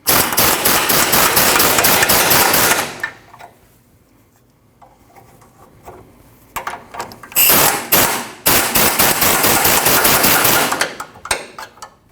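Nuts being run down onto a new rear sway bar link on a Nissan NV2500 van, heard as loud buzzing ratcheting bursts from a power tool, with a pause of near silence between bursts.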